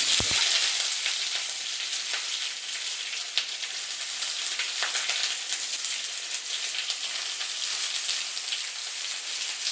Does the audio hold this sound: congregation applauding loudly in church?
no